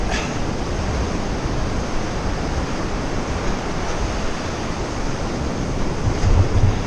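Ocean surf breaks at the Capbreton beach surf spot on the French coast as a constant broadband roar, with wind buffeting the microphone and a slight swell at the very end.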